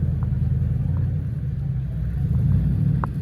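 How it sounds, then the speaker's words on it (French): A V8 car engine idles with a steady deep low rumble at close range, with no clear rev rise and a few faint knocks on top. "C'est incroyable le bruit du V8."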